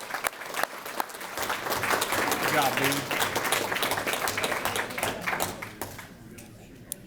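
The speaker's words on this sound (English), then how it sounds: "Let's give him a round of applause." An elementary school audience gives a round of applause for a student at an awards event, swelling to a full, steady wash of clapping and then tapering off, with a brief spoken remark over it.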